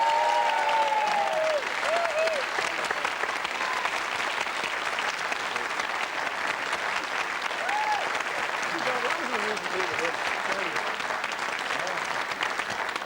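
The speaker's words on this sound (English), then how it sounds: "Give them a round of applause, the boys." Studio audience applause for the Dublin Fire Brigade lads on a 1996 Irish TV quiz show: loud, continuous crowd clapping with faint cheers, steady throughout, while a few voices call out briefly over it.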